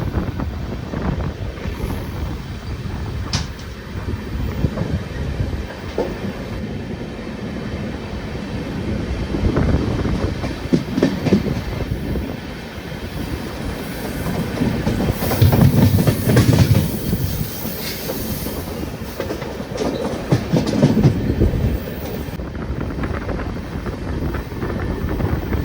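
The Guruvayur–Madurai Express, running with LHB coaches near Chengannur, rolls along continuously with rumbling wheels, rhythmic clickety-clack over rail joints and wind buffeting the microphone, growing louder in surges.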